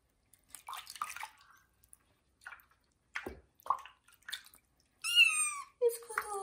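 A kitten yowls loudly during its first bath in water, with someone speaking softly around it; the sharp, high cries come in two bursts near the end, after quieter talk and faint splashing.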